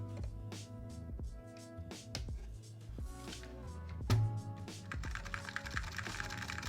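Keys on a mechanical keyboard clack in quick irregular bursts, close and crisp, as it is typed on to check a replacement cable, with music playing underneath.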